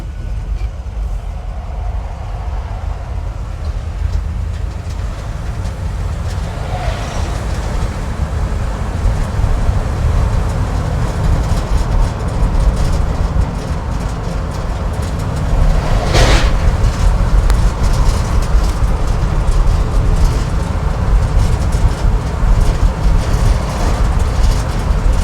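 A 50-year-old Ford F100 classic truck with loose steering and braking drives along steadily, its low engine and road rumble continuous and fairly loud, with a brief sharper whine midway.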